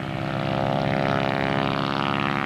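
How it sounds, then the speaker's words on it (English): A Harvard trainer aircraft's propeller engine at an airshow in Chatham, Ontario: a loud, steady, buzzing drone with strong rhythmic harmonics, holding constant throughout without voices. "that's the very distinctive sound that you get from the Harvard aircraft"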